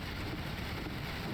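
Steady hiss of pouring rain in the Assetto Corsa Evo racing game, a dense, even wash of drops with a low rumble beneath, continuous and fairly quiet with no voices.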